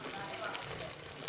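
Half a cup of oil sizzles and fries in a pot of boiled black chickpeas, a steady close hiss with a brief stir clatter near the end.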